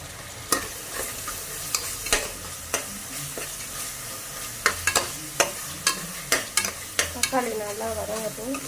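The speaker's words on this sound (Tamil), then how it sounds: "தக்காளி நல்லா வதங்கட்டும்." Tomatoes sautéing in a pan for mutton curry, a steady soft sizzle broken by repeated sharp scrapes and taps of a spoon stirring, near and fairly loud, with no voices.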